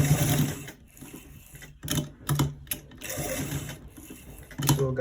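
Sewing machine stitching a V-neck neckline, running in several close bursts of rapid stitching separated by brief pauses, loud and near with no talk.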